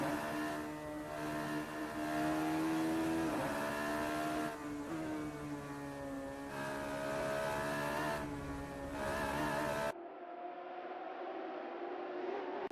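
A pack of Radical race cars in a sim racing game pulls away at the start, engines droning and revving together in rising and falling waves, loud and steady, before the roar abruptly drops to a thinner, more distant engine note.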